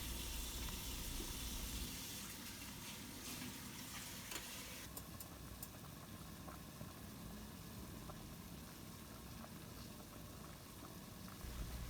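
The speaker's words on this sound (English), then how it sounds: "we're going to bring the beans to a boil" Beans heated in a pot on a stovetop, giving a steady, broadband hissing rumble with bubbling that holds at an even level throughout, unbroken by talk.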